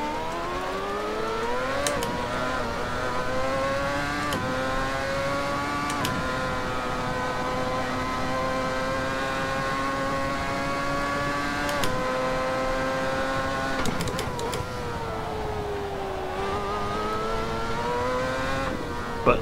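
The high-pitched engine of a Lotus T125 Exos race car in Assetto Corsa wails close and loud, climbing through the revs and dropping sharply at each gear change, repeated across a sustained run.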